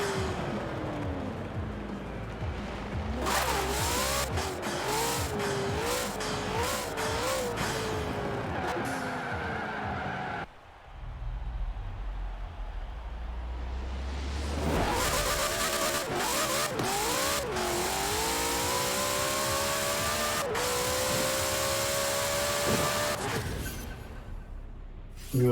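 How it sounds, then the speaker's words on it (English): Hoonigan Ford Bronco with a turbo engine drag racing in Forza Horizon 4, a loud revving engine rising through repeated upshifts with turbo whine, a brief lull mid-run, then another long climbing pull. "You can hear the turbo."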